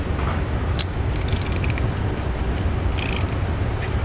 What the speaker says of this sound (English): Because of the size of the threads, it taps very readily into the aluminum.